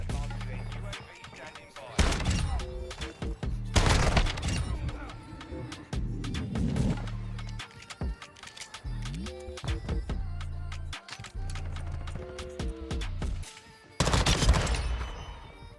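Expedite 12 shotgun blasts from Call of Duty MW2, several loud bursts spaced a few seconds apart, ringing out over steady game music and effects.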